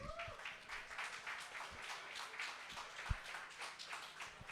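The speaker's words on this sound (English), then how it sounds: "Round of applause for our panelists, please." Faint, distant audience applause for panelists at a talk, a continuous patter of many hands clapping for several seconds.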